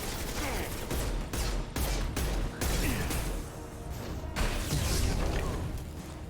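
Shotgun blasts in a video game firefight, several loud, sharp reports spaced a second or so apart, with crashes and whooshing action filling the gaps.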